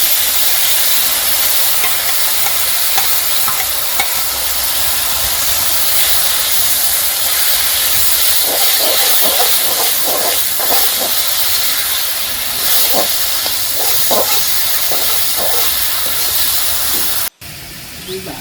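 Ground spice paste hitting hot oil in a village-style kitchen, producing a loud, continuous hissing sizzle with sputtering bursts in the middle, running unbroken until a sudden cut near the end.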